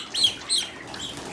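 Broiler chickens about three weeks old cluck and chirp softly in two short bursts, close by and quiet, with no talking.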